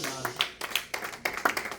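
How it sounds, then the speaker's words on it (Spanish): A church congregation claps in a quick, steady rhythm, each sharp slap close and distinct, with a voice speaking amid the claps. "Denle ese aplauso fuerte al Señor"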